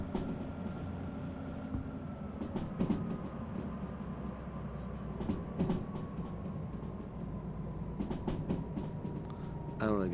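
Two DH4 diesel locomotives working together in the railway simulator Derail Valley, a low steady engine rumble with a faint whine and rhythmic clicks and clanks of rolling wagons, moderately loud throughout.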